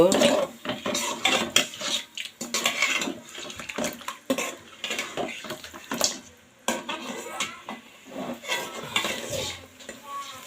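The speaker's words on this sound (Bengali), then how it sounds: "এই মাছটা আমি খুব ভালোভাবে এখন কষায় নিব।" Fish pieces being sautéed and stirred in a pan for a fish-head mung dal, with metal clatter of a spoon against the pan and a soft sizzle underneath, close and continuous.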